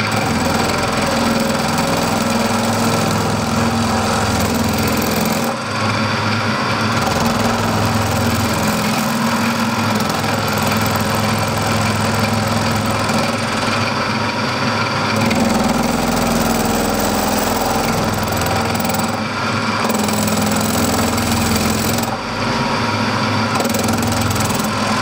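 A milling machine cuts hard steel, a loud continuous mechanical grinding and whirring with a rough, slightly knocking texture and brief changes in tone as the cut shifts, and no voices over it.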